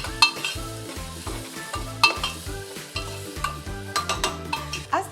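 Onions frying in a pan for sai bhaji, a close continuous sizzle broken by repeated sharp stirring clinks and scrapes of a spoon against the pan.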